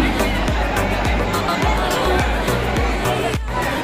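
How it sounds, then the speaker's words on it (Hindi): A busy food court at Nicco Park, an amusement park in Kolkata, full of steady crowd babble and chatter, with a regular thumping beat pulsing underneath throughout. "फूड भी देख सकते हो फूड कोर्ट में कितनी भीड़ है।"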